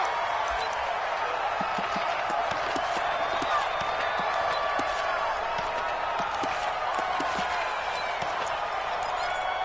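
Stadium crowd in a football video game, Pittsburgh Steelers against Chicago Bears: a constant dense roar of cheering with scattered claps, running under a commentator's voice.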